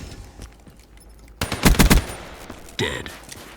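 Man-O-War assault rifle from Black Ops 3 fires a short burst of several loud, evenly spaced shots with a slowish rhythm, set among quieter game sounds and a later swelling effect.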